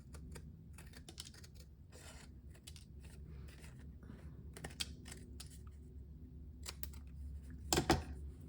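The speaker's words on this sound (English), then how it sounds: "So let me get my scissors." Scissors snip in short, crisp bursts with quiet pauses between, ending in a louder cluster of cuts.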